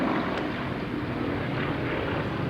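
A propeller aircraft taxis for departure at a 1996 airshow at Shoreham Airport, a steady low engine rumble with light wind noise throughout, continuous and moderately distant, with no voices.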